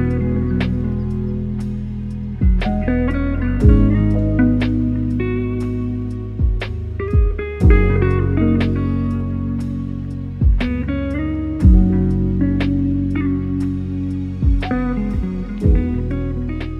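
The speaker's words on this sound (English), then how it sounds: "today I'll be showing you how to make dreamy lo-fi that sounds like this" Dreamy lo-fi beat produced in Ableton Live: mellow chords with soft plucked melody notes and regular drum hits, steady and clear with no talking.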